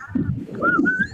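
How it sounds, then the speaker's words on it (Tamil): A whistle is blown in sustained, slightly wavering high tones, one longer note and then a rising second note, over a low murmur of background noise. "விசில் ஊதுது போதும்."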